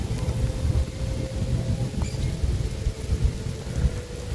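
Steady spring rain in Australia falls throughout, a dense, even patter with a low rumbling undertone, fairly close and constant with no voices.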